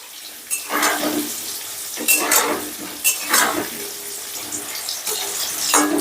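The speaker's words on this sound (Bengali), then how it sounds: "এবারে আমি আলুটাকে বেশ লাল লাল করে ভেজে নেব" Potatoes fried in oil in a pan until reddish-brown, with bursts of sizzling and scraping as they are stirred. The noise swells and fades irregularly, fairly close, with no speech.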